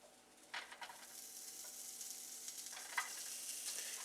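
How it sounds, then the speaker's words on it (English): Onions fry in a pan with a steady, soft sizzle and a few sharp scraping stirs, close by but quiet. "And I'll continue frying these."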